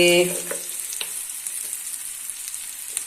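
Sliced onions softening in a pan on a stove over a low flame, giving a steady, soft, close sizzle with a few faint pops and clicks, and no voices.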